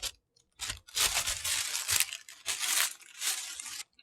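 Tissue paper and clear tape tear and crinkle while a Chanel 21P bag is unboxed, arriving in several close, sharp bursts of ripping and rustling separated by brief pauses.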